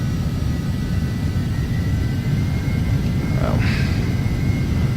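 Embraer Phenom jet engines spool at takeoff in the FSX flight simulator, a loud, steady rumbling roar with a faint whine and a brief chirp near the end.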